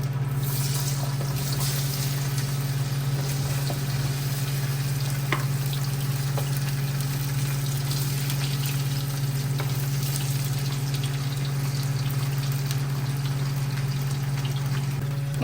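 Banana slices frying in a pan with oil, a steady crackling sizzle with a low constant hum underneath, close and continuous, with no voices.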